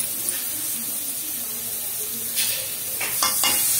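Spices and garlic fry in hot oil in a pan, a steady soft sizzle and hiss with a few brief stirring scrapes toward the end.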